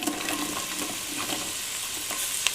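Onions and celery frying in a pan, giving a steady, close hiss of sizzling with a few faint stirring clicks, with no voices.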